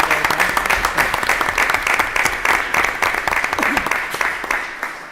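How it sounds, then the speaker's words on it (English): An audience at a school Board of Education meeting breaks into sustained applause, dense clapping from a room full of people that holds steady throughout. "Join me in a round of applause for our Board of Education."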